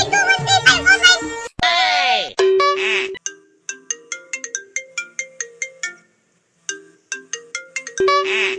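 A phone ringtone plays as a bright electronic melody of short repeated chiming notes after a burst of voices, with gaps between phrases and louder tones toward the end.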